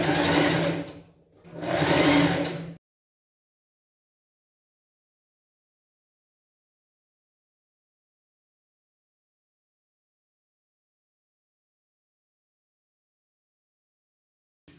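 A sewing machine stitches decorative ric-rac trim onto a Cinderella-style pet costume dress in two short close bursts of whirring, then falls silent.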